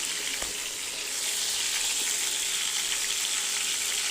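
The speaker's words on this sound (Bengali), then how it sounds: "তো আমি আলতোভাবে নাড়াচাড়া করবো, যেহেতু আমগুলো নরম, বেশি একটা নাড়াচাড়া করবো না, আস্তে আস্তে নেড়ে চেড়ে আচারটা বানাবো।" Raw mango pickle with jaggery and sugar stirred gently in a pan, a steady broad sizzling hiss with faint, slow stirring scrapes underneath, even and continuous throughout.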